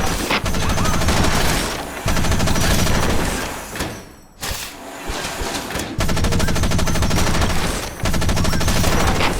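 Sustained machine gun fire in the video game Front Mission Evolved, loud and dense, coming in long bursts separated by brief pauses near two, four and six seconds.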